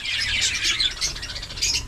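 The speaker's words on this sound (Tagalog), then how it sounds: "Pagkainin natin yung ating mga ibon" Pet birds squawk and chirp at feeding time, a busy cluster of bright calls close by, overlapping in quick bursts with a low rumble beneath.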